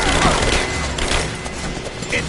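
Sustained gunfire in a Rise of the Tomb Raider firefight, a dense fusillade of overlapping shots and booms that stays loud and steady throughout.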